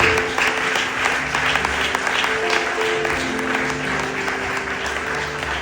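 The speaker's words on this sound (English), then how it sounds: "I need you to give them a big round of applause" A big round of applause from the audience at a women's award ceremony, dense continuous clapping from a large crowd, loud and steady across the whole stretch, with a low hum of voices underneath.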